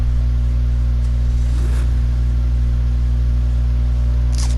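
A BMW i8 engine in the video game GTA Online starts up and idles with a low, steady rumble and hum, a brief rising rev in the middle, heard close and continuous.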